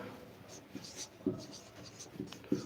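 A pen scratches out a handwritten sentence on paper in short, quiet strokes with small pauses between them, heard close up.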